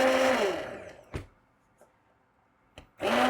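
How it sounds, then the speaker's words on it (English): A stick blender whirs through hot tomato soup, a loud steady motor drone that cuts off, followed by a couple of brief clunks and a quiet pause before the blender roars again, with no talking. "Now, we're using a stick blender."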